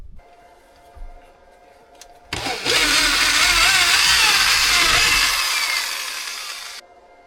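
Drill boring a 3-inch vent hole through an off-grid tiny cabin wall: after a few quiet knocks, a loud grinding whine starts abruptly and runs steadily for about four seconds before cutting off, close by and without talk.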